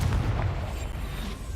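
A Confringo spell explosion in Hogwarts Legacy on PS5, a single dense, rumbling blast that fades out over a second and a half.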